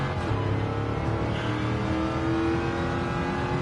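A car engine in Gran Turismo 7 revving steadily in first gear with a sustained, loud, even drone and a bright harmonic whine, close and alone, with no talking.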